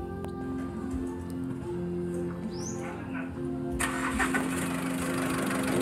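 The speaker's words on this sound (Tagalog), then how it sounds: "So ang kalagayan dito ay palyado yung engine." A Mitsubishi Strada engine with a misfiring fault cranks and catches, then runs rough and uneven. It is close and fairly loud, with a steady hum underneath and a brighter, harsher surge once it fires.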